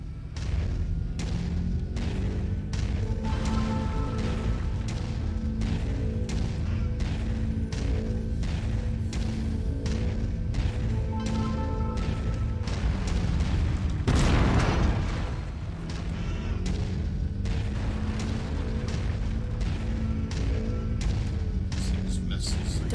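Missile salvos in the Mechwarrior 5 mech combat game: rapid rhythmic thuds and booming impacts over a low mechanical hum, with one large explosion rising midway, and a radio voice and a person talking in between.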